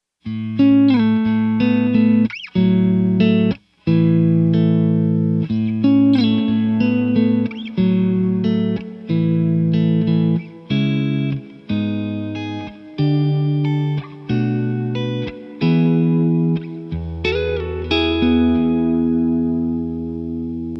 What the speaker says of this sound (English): a reverb can continue on and kind of fill in those gaps a bit